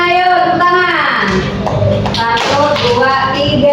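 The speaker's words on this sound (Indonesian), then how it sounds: "Suaranya mana ayo? Tepuk tangan." Students in a classroom clapping for a group, a busy patter of hands rising under and between loud, excited voices, close and fairly constant throughout.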